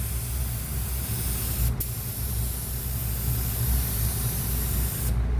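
Leather dye sprayed onto a leather bag from a spray gun: a steady, close, continuous hiss with one brief break partway through, a compressor-like hum beneath it, and no talking.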